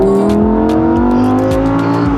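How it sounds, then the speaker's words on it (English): An orange Lamborghini is driven with its engine revving hard, a loud, close, sustained roar whose pitch climbs steadily with a rough, gritty edge throughout. "they hooked us up with the sick orange Lamborghini. And as you can see, I'm driving it right now"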